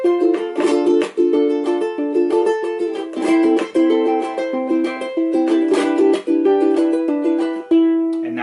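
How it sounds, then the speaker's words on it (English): Ukulele played with a fan strum, percussive chucks, thumb plucking and finger strumming, producing bright, busy rhythmic chords with sharp muted accents, close and steady throughout without any voices. "it's a fan strum, a chuck, and then some of that plucking and strumming technique"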